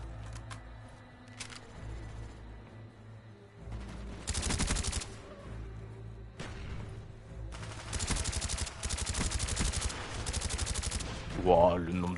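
Rapid bursts of automatic gunfire from a multiplayer shooter game, sustained volleys in several clusters with sharp single shots between, loud and dense against a steady game backdrop, ending with a rising whoosh-like effect.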